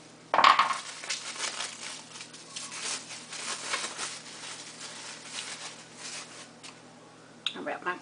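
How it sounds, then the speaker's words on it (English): Crinkling and crushing of wrapping pulled off a cold banana for a strawberry banana smoothie, close and fairly continuous, with a sharper crackle at the start and another near the end. "Unwrap my cold banana."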